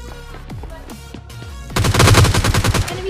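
Gunfire in PUBG Lite, a mobile battle-royale game: a few isolated shots at first, then a dense, loud automatic burst from about the midpoint to the end, with faint voice in the background.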